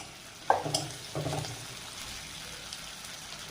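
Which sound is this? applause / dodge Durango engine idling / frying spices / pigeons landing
frying spices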